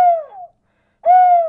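Two drawn-out, wavering hoots from a person mimicking a loon, close and clear, the first tapering off and the second rising back after a short silence.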